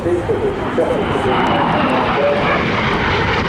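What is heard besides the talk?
L-39 Albatross jet aircraft flying at airshow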